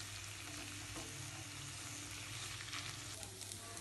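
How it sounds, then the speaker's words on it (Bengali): Rice grains lightly frying in a pan for a Hyderabadi bagara rice dish, giving a steady, moderately quiet sizzle with occasional stirring scrapes throughout, no voices. "এবার চালটাকে কিন্তু আমি হালকা ভেজে নেব।"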